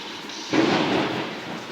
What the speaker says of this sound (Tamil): ஆனால் எங்கள் ஊரில் மழை பெய்யுது ஃப்ரெண்ட்ஸ்